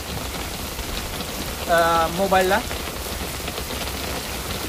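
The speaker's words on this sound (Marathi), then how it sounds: "आता पाऊस सुरू झालाय" Rain falls steadily, a continuous dense patter filling the scene at moderate volume, with a brief spoken word in the middle.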